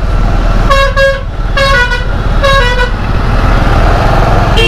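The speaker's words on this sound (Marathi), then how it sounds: "बंदरला फुल ट्रॅफिक जाम." Vehicles in a full traffic jam honk in repeated short and long blasts over a constant loud rumble of engines and wind, heard from the road on a long motorbike ride.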